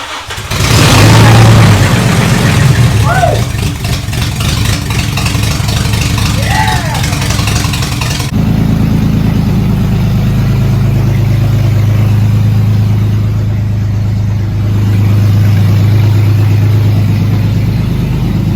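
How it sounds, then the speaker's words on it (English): A Nissan 350Z with a freshly swapped engine cranks loudly for several seconds, then catches and settles into a steady, rumbling idle that continues close and strong to the end. "Got the battery all charged up. It's time to crank it over and see what happens."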